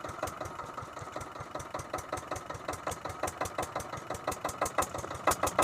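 Motorized wooden fishing boat on the Brahmaputra River in Assam, its engine chugging in a fast, steady rhythm of close, loud knocking pulses that continues without pause and with no talk.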